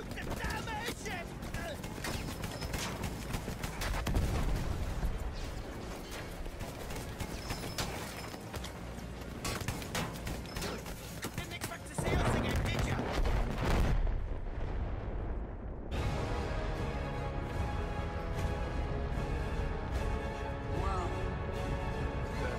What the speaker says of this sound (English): Shoot the damn airship!